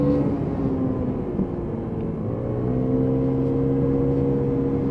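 Lexmoto Nano motorbike engine on a ride around a housing estate, a steady close drone with rising and falling pitch as the throttle changes.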